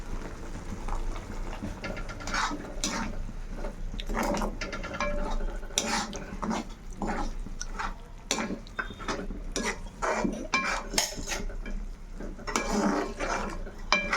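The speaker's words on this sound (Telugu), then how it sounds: "ఇలా ఫ్రై చేసుకోవాలి బాగా బాగా ఫ్రై చేసుకుని" Cashews and paneer frying in a pan for kaju paneer curry, with constant close stirring, a spoon scraping and tapping the pan in an uneven rhythm over a low continuous sizzle.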